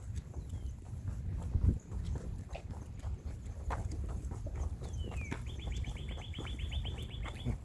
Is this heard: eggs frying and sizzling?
no